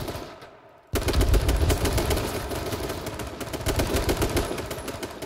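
Rapid gunfire in a video game shooter after a grenade throw: after a brief quiet start, a loud, dense, continuous burst of automatic fire and blasts fills the rest of the moment, close and without talk.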